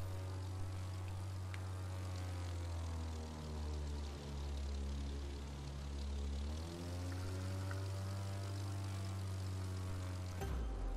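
A propeller airplane flying level after a loop in the racing game The Crew 2, a steady droning engine with harmonic hum that shifts slightly in pitch, continuous and close, with no talk.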